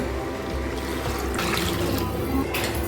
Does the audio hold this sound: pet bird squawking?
no